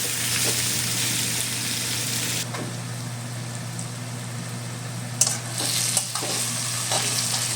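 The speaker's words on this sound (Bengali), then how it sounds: "পেঁয়াজগুলো আমি 5-7 মিনিট ভেজে নেব" Onions fry in a pan for a mutton curry, a steady close sizzle under a low hum, with a few sharp stirring clatters near the end.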